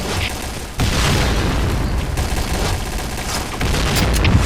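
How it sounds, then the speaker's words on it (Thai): Loud booming blasts and crackling gunfire fill the scene in Point Blank, with a heavy explosion rumbling near the start and continuing battle noise afterward. "โอ้ย ระเบิด"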